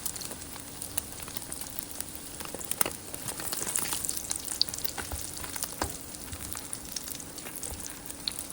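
Carnivore-style French toast slices crisping in a hot pan, a steady soft sizzle and crackle with scattered sharp pops and spatters, fairly quiet and close, no talking.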